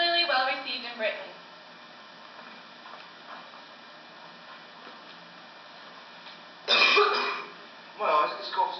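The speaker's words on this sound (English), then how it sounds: "My eyes, this cough's getting worse." A man coughs and clears his throat in a staged period drama set in Coalville, England, with one harsh burst of coughing near the end followed by a second shorter fit, close and loud over a quiet room.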